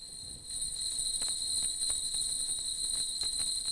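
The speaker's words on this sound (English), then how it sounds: "This is the sound of a machine-made bell." Small machine-made Kagura bells jingle together in a high, sustained shimmer, ringing steadily and fairly faintly, with no voices.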